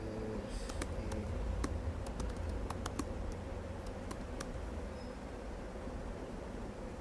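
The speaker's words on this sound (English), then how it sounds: "here I'm gonna just type something" Typing on a computer keyboard: a burst of sharp, irregular keystroke clicks over a steady low hum, then a few scattered taps before it trails off.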